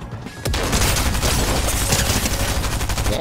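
Rapid, continuous video-game gunfire rattles loud and close, with dense bursts of shots running without pause.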